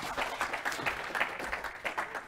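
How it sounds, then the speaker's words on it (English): An audience at a conference presentation claps, a modest round of applause with rapid uneven hand claps that fades slightly at the end. "Round of applause, please."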